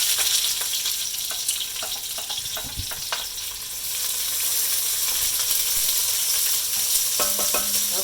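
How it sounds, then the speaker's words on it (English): Cut onions sizzle in hot oil in a pot of stew or soup, a loud continuous crackling fry broken by scattered stirring clicks and taps, with no voices. "the oil looks like it's hot now, so I'm going to get Bruce's wonderful cut onions"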